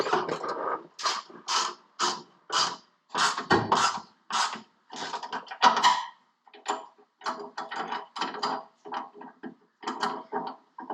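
Ratchet wrench snugging off-road cross member bolts: bursts of quick clicking in short back-and-forth strokes, repeated steadily over about ten seconds, moderately close.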